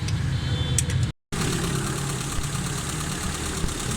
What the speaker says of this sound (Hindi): गाड़ी स्टार्ट है भाईजान,